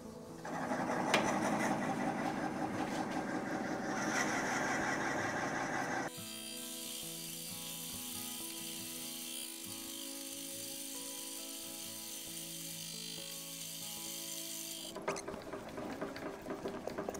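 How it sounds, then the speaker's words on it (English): A 2-inch Forstner bit bores into osage orange wood at around 300 RPM, giving a steady grinding whir that shifts to a lower rumbling churn partway through, with no talking. "Got the 2-inch Forstner bit on here. Bring the speed up to maybe 300 RPM."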